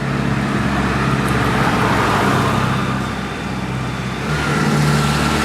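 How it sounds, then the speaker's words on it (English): A tractor drives past near a car park in Spain, its engine a steady loud low rumble that swells and fades slightly across the clip. "We've got another tractor going past."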